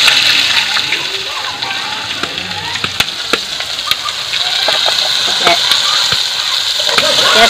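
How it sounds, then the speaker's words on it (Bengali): Onion fries in hot oil, giving a close, continuous sizzle broken by sharp spattering pops throughout. "একই তেলে আমি এখন এই প্যাঁচটা দিয়ে দেবো।"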